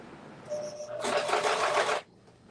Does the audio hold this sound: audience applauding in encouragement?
no